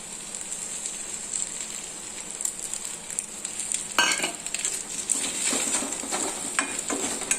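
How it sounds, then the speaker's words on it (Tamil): Beaten egg poured into a pan of frying vegetable poriyal, sizzling steadily with a sharper burst of hiss partway through and light scraping stirs afterward, no voices. "இப்போ நம்ம வந்து முட்டையை ஊற்றிக்கலாம்"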